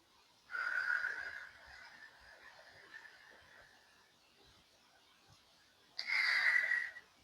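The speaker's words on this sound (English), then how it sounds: "And a longer exhale." A long, audible breathing exhale, a soft hissing, slightly wheezy stream of air that tapers off over a few seconds, then quiet, and a second shorter breath near the end.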